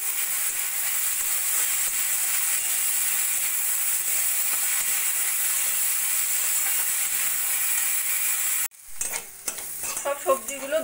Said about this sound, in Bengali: দিয়ে একটু ভাজা ভাজা করে নেব।